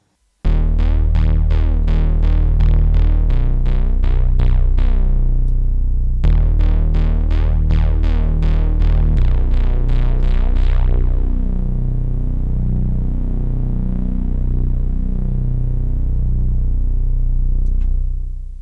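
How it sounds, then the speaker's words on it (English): A John Carpenter-inspired 1980s-style analog bass synth patch built in Serum plays a dense, loud, steady pulsing sequence of repeated bass notes, with a brief gap near six seconds and a darker, filtered tone in the final stretch. "how to make the Carpenter bass synth patch from my free Retro Serum Presets Pack"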